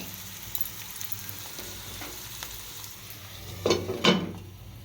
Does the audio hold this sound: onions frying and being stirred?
yes